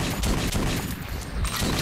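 Rapid gunfire in the video game Metro 2033 rattles on as a dense, continuous burst of shots, loud and close.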